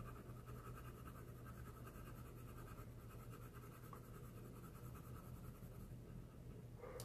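Black Widow colored pencil laying down a light layer of shading on paper, a steady continuous scratchy stroking that carries on evenly throughout at close range, with no talking.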